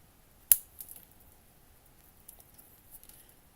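Scissors snipping miniature plant pieces in half, one sharp close snip followed by a few softer clicks and small rustles in a quiet room.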